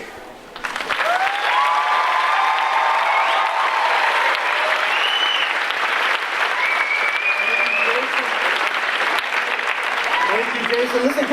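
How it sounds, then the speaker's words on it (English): Loud, sustained audience applause fills the room from start to finish, with whistles and cheering voices rising above the dense clapping. "can we give a big round of applause for all Jason's awesome work this weekend?"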